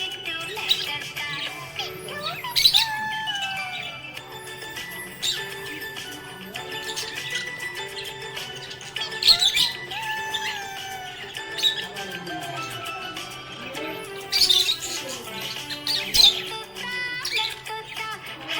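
Budgie parrot chirping and squawking in repeated short bursts over a steady background hum, moderately loud and close, with no talk.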